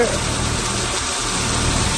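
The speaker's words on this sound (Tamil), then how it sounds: "இன்ஜின் வந்து 30 HP இன்ஜினு." A 30 HP engine-driven pump, hired to drain a pond in Iluppur, Pudukkottai district, Tamil Nadu, runs with a steady, close, loud mechanical drone and no change in pitch or rhythm.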